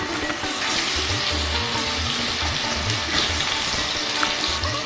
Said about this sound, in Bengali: ফ্লেম হাইতে রেখেছি, একটু নাড়াচাড়া করে নিচ্ছি আমি।